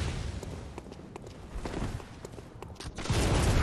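Gunfire from the video game Bloodborne sounds as a scatter of sharp cracks and thuds over a rough background, with a heavier boom near the end.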